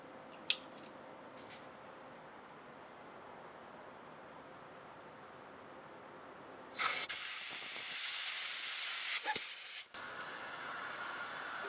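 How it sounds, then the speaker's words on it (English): Air rushes from a tire valve stem with its core pulled, a loud sustained hiss bursting in after a quiet stretch, lasting about three seconds and then cutting off abruptly, followed by a softer lingering hiss. "I want to pull this core. I want you to hear it."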